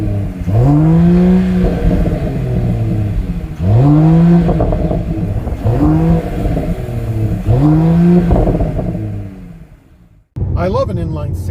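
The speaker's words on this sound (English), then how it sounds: "while the inline 6 may not be the best sounding power plant in the world" A Mercedes-AMG GT 43 inline-six engine revs repeatedly in several rising bursts, each swelling and dropping back, loud and close, then cuts off briefly before picking up again.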